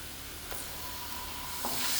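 Ginger garlic paste sizzles in hot oil in a pan as it is stirred, a steady close frying hiss with a couple of scraping spoon strokes, no voices.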